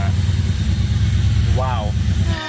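A car engine idles steadily after starting, a low continuous rumble held close throughout, with a brief voice rising in the middle before the sound cuts off at the end.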